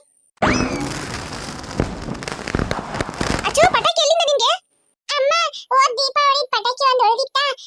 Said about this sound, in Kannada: ಈ ಸಂತೋಷನ ನಾವು ಪಟಾಕಿ ಬಿಟ್ಟು ಸೆಲೆಬ್ರೇಟ್ ಮಾಡ್ಬೇಕು